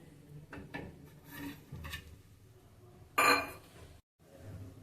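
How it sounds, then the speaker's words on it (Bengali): Plates and dishes clink softly a few times, with one brighter, louder clatter of crockery near the end, in a quiet room. "এবারে ডিনারের জন্য থালাটা সাজাই"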